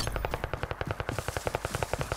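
Rapid automatic gunfire in a video game, aimed at a blimp overhead: a steady burst of evenly spaced shots, roughly ten per second, close and sharp, with no talk.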